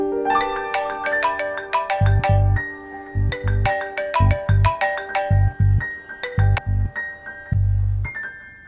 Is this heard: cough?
no